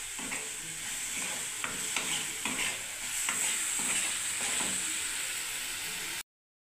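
Food fries and sizzles steadily in a pan while it is stirred, with scraping strokes over a constant hiss, up close and without talk, before the sound cuts off abruptly.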